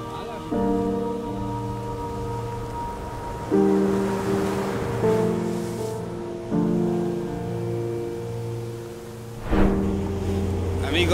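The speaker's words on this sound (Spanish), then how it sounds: "Qué delicia de mar." Sea waves wash onto a sandy beach near Tulum at night, a steady surf hiss swelling in several surges, partly masked by a continuous tonal hum throughout.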